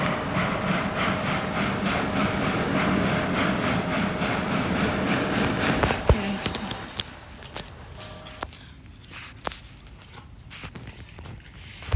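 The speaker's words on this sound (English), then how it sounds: "there's another fucking train" A train passes in the Trainz Driver 2 railway game, a dense, loud rumble for about six seconds that drops away to quieter scattered clicks and clatter.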